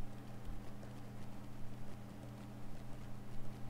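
Horse hooves clip-clopping in the LOTRO (Lord of the Rings Online) video game, a steady run of hoofbeats at moderate level over a constant low game hum, with no talking.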